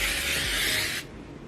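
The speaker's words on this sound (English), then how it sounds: "This is just the Tresemme extra spray, or extra hold hairspray." Tresemme extra hold hairspray sprayed in one continuous hissing burst for about a second, close and loud, then cutting off abruptly into quiet room tone.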